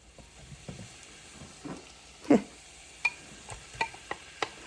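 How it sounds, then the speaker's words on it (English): Onions and mushrooms hit a hot pan, giving a faint, steady sizzle with a few soft stirring scrapes and clicks near the end. "Now I'm just adding my onions and my mushroom to the pan."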